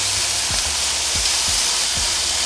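Steaks searing on a Power Smokeless Grill XL give a steady, bright sizzling hiss, with a few soft low thumps repeating about every half second beneath it.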